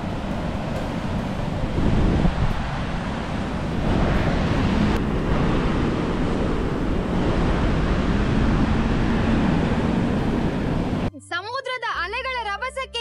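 Ocean waves roll and crash onto a rain-battered beach where a river meets the sea, a continuous roar mixed with heavy wind buffeting the microphone, followed by a short burst of music at the end.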